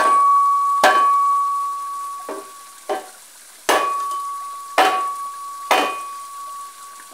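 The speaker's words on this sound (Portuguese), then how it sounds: "Mais umas batidas nele aqui." Hammer blows driving a wedge into the end of a hoe handle: about six sharp, ringing metallic strikes spaced irregularly over a few seconds, close and loud, each decaying into a faint resonant hum.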